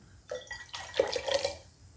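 Gyokuro green tea is poured from a teapot into a cup in a close, soft trickle that swells and then tapers off over a couple of seconds.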